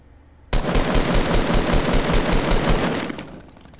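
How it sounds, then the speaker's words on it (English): A minigun fires in Fortnite, one loud sustained burst of rapid rattling shots that starts abruptly and runs for about two and a half seconds before cutting off. "And somebody shoot a minigun,"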